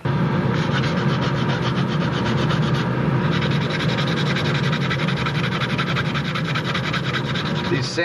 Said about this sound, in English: These sanding sticks are so handy.